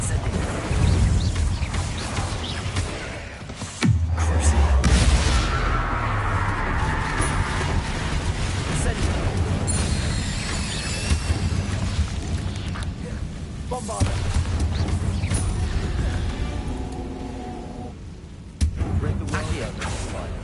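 A Bombarda spell blasts in Hogwarts Legacy, a deep booming explosion followed by rumbling debris amid game ambience and scattered speech, with more heavy thuds later.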